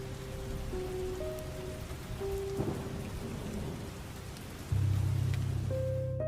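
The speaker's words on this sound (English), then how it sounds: "half listening to the rain tapping against the windows" Steady rain patters against glass with distant rumbles of thunder, a continuous wash of drops beneath a low hum.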